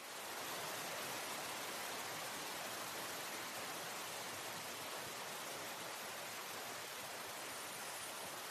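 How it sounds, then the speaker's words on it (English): Hydrophone recording from the bottom of the Challenger Deep, a continuous broadband hiss like a running shower, steady and even throughout with no distinct events. "This is the actual recording from the bottom of the Challenger Deep, just sitting there."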